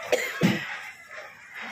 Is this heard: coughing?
yes